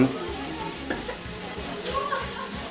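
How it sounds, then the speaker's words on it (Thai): Fresh eel caught from a rice field in Korat being stir-fried with holy basil, a loud, close, continuous sizzle with clattering stirring strokes and no voices. "ปลาไหลที่จับมาจากท้องนา สดๆที่โคราชเนี่ยนะครับ ตัวเบลเลอร์เลย แล้วก็เอามาผัด กะเพรา"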